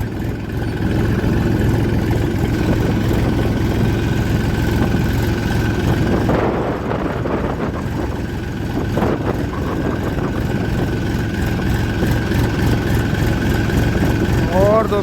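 A tractor pulling a loaded trolley runs in first gear, its engine holding a steady, loud, low rumble throughout.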